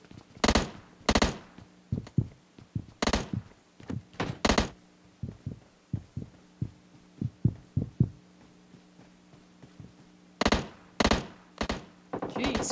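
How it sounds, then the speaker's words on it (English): Repeated gunfire in the battle-royale game PUBG Mobile, sharp close bursts at the start and again near the end, with fainter, more distant shots popping steadily in between over a low background hum. "there's some shooting going on."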